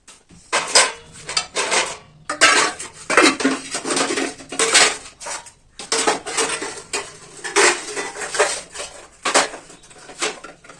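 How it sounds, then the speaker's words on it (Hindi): Dishes, pots and metal utensils being washed at home in a village: continuous clattering, clinking and scraping of pans and cutlery, fairly close, with no one speaking. "और देखो ये सारे बर्तन धुलने वाले हैं, तो मुझे सारे बर्तन धुलने होंगे।"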